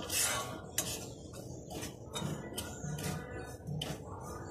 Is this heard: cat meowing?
no